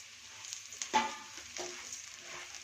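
Semolina and vermicelli roasting in a pan with onions for cashew upma, a soft close sizzle with a few scraping stirs and one sharper clink, fairly quiet and steady with no talking.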